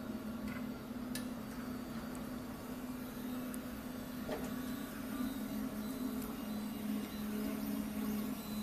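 Quiet, steady hum from a MINGDA MD16 industrial metal-frame 3D printer running, with faint occasional ticks and clicks over a continuous motor drone.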